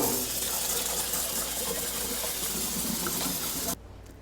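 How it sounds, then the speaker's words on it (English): Strawberries are washed under a steady gush of cold running water, a close, even rush of splashing that cuts off abruptly just before the end. "we'll be washing them thoroughly in cold water"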